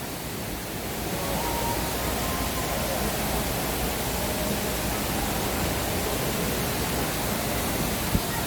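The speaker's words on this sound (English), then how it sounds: "There's another waterfall up here." An indoor waterfall at the Gaylord Opryland resort sends up a loud, continuous broadband rush of falling water, steady and enveloping throughout, with a faint murmur of voices beneath.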